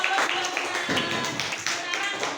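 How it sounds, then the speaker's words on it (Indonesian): A short burst of applause, clapping hands rattling quickly together at moderate volume, with voices mixed underneath. "Tepuk tangan buat Mbak Bella."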